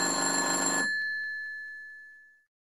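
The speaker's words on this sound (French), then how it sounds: "le téléphone sonne." A telephone rings once with a loud electronic bell tone that cuts off abruptly, leaving a sustained high tone that fades out over the next couple of seconds.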